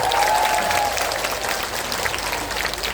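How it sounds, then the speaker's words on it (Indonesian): A large crowd at an open house event applauds after an introduction, steady mid-level clapping filling the space, with a faint tone briefly at the start. "Tepuk tangan."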